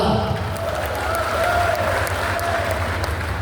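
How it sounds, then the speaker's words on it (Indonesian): Audience applause at an anniversary gathering of a Batak youth organization in Jakarta, a continuous even roar of clapping from a large crowd lasting a few seconds. "Tepuk tangan buat Jakarta."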